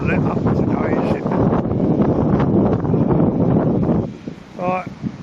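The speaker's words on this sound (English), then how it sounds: "Oh, that wind." Wind gusts across an outdoor campsite during tent pitching in November, a steady broadband rush with rustling and microphone buffeting that continues without a break, easing near the end, while a person talks over it.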